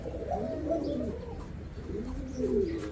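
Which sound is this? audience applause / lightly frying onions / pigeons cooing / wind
pigeons cooing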